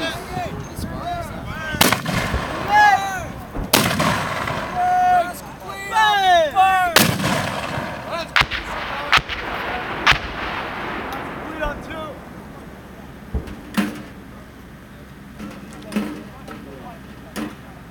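Mortar live fire at Camp Blanding: several loud booming launches and blasts echo outdoors, spaced a few seconds apart with fading rumbles, while people shout commands between rounds.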